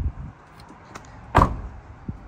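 A 2020 Honda Odyssey power sliding door closing: a single soft thump near the end of a quiet stretch, followed by a faint, short knock.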